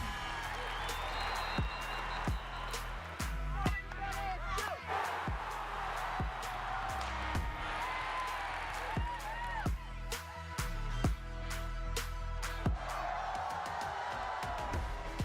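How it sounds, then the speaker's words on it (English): A lively crowd cheers and whoops with scattered clapping and sharp shouts rising over a steady roar, while a low musical bed and some talk run underneath throughout. "Keep the cheering going"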